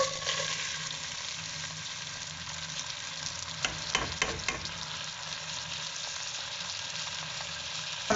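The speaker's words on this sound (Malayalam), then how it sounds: "ഈ ജീരകം ഈ എണ്ണയിൽ നന്നായിട്ടൊന്ന് ഫ്രൈ ആയിട്ട് വരണം" Cumin seeds and rice frying in hot oil while being stirred, a steady dense sizzle with a few sharper scraping clicks of the spoon around the middle and no talking, made for jeera rice.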